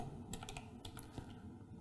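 Keystrokes on a computer keyboard while entering a system hostname during Oracle VM Server setup, a quick run of close, moderately loud clicks with short pauses between bursts, no voices.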